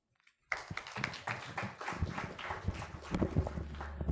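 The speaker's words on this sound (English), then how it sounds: "let's give a bigger round of applause for Hari" After a short silence, a conference audience breaks into a steady round of applause for a speaker, dense and moderately close, with no talking over it.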